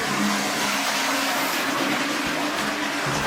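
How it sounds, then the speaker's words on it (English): A toilet being test flushed gives a steady, loud broadband rush of water that fills the whole moment without pause, with no talking over it. "Let's do a little test flush for the toilets."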